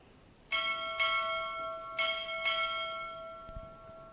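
A ship's bell struck four times at a Navy recruit graduation ceremony, in two pairs of bright metallic rings whose long tones overlap and slowly decay in a quiet hall.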